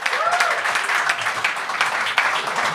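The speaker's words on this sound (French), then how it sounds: "on peut applaudir encore une fois Angelo Chiraldi!" A comedy show audience claps for a performer, dense steady applause filling the room with a few whoops and voices cutting through the clatter.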